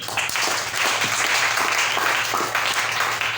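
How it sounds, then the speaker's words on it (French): A congregation at a church service applauding, sustained dense clapping from many hands with a faint murmur of voices underneath, fairly loud and continuous. "On acclame le Seigneur."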